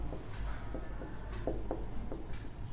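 Pen writing on paper while solving linear equations, short scratchy strokes in quick irregular bursts, close but faint over a low steady background hum, no voices.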